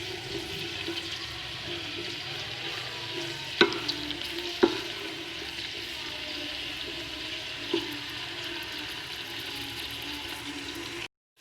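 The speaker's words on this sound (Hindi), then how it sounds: "अब हम इसमें डालेंगे प्याज। इसको अब हम फ्राई करेंगे 5 से 7 मिनट के लिए।" Sliced onions frying in hot oil in a pan for chicken pulao give a steady hissing sizzle throughout, with a few sharp clinks of stirring, close and clear with no talking.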